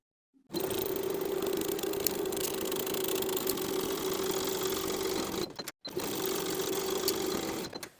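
A sewing machine stitching the shoulder and side seams of a tank top runs in a steady, close, continuous hum, broken by one brief pause before resuming.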